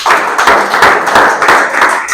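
A church congregation applauds during a service, producing dense, steady clapping that stays loud and continuous for about two seconds with no pause.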